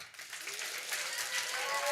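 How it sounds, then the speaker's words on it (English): Audience at a live show applauding itself, a steady, dense wash of clapping that builds slightly across the short stretch with no voice on top. "Give yourselves a hand."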